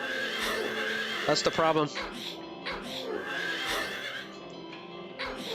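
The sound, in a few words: horse neighing in Silent Hill 3 video game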